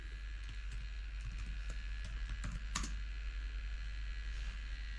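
Fingers type a short name on a computer keyboard, light irregular key clicks with one sharper tap near the end, close over a loud constant low hum.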